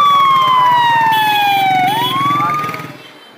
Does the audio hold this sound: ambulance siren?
yes